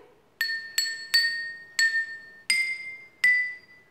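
Six china bowls are struck one after another in a slow, uneven rhythm, each giving a clear, bright ringing tone that decays quickly, close and alone as they pick out a melody.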